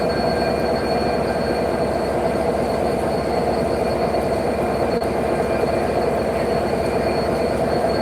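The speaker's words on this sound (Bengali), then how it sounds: "আজকে আমাদের এই চিত্রা এক্সপ্রেস ট্রেনটি টাইম অনুযায়ী ছাড়ে কি না" A Chitra Express passenger train on the Khulna to Dhaka route rumbles steadily and loudly throughout, with a constant low roar of wagons and faint wheel squeal, no voices heard.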